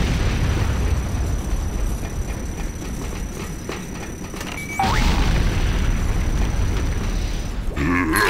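Heavy rumbling blast as a Nod structure is destroyed in the multiplayer game Renegade, a sustained roaring crash with a sharp second impact and debris clatter near the end.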